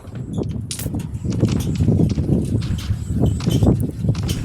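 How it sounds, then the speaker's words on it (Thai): Footsteps from the shooter game Sausage Man, a busy run of dull thuds and clip-clop-like steps that keeps going over a low rumbling background, with no one talking. "นั่นไงได้ยินเสียงเท้านะแต่ไม่เห็นตัว"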